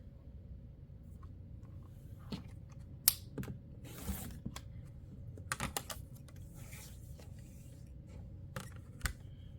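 Rotary or shear cutting through stacked layer cake quilt fabric pieces on a cutting table: faint, scattered crisp snips and rubbing clicks over a low steady hum, quiet and close, irregular in rhythm.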